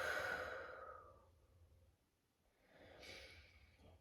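A soft, audible exhale during a relaxing stretch and breathing exercise, a breathy rush that fades out, a brief pause, then a second breath swelling in, close and quiet.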